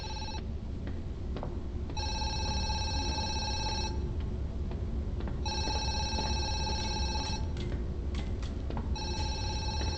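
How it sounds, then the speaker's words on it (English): Telephone ringing inside the Zoochosis horror video game, an electronic bell tone sounding in repeated bursts of roughly two seconds with short gaps, steady and fairly loud over a low ambient game hum. "Alright, you got a phone's ringing."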